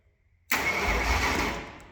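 An abandoned supercharged 1965 Ford engine cranks over after a silent moment, a sudden loud churning roar from the starter and blower that holds steady, then slowly fades near the end, with no voices.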